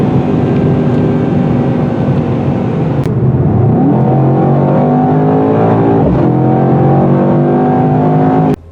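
A 2021 Mercedes-AMG E63 S sedan accelerates hard, its engine roaring loud and close, with rising revs, a brief gear-change dip near the middle, and a steady climbing pitch until it cuts off at the end.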